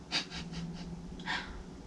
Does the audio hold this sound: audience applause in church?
no